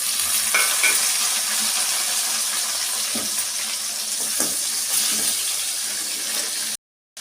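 Tomato and vegetables fry for a potato and brinjal curry, with a loud, steady sizzle and occasional stirring clicks close to the pan. The sound cuts out briefly near the end.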